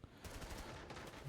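Rapid automatic gunfire from the Rainbow Six Siege video game crackles in a dense, continuous burst, sharp and fairly close for just over a second.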